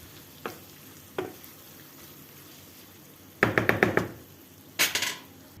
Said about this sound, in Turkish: Şöyle domatesler yumuşayana kadar pişireceğim.